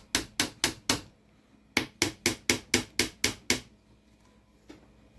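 Small 3x14mm alignment pins get tapped into holes with a hammer: two quick bursts of sharp metallic knocks, four then seven in even rhythm, close and loud, followed by one lone faint tap.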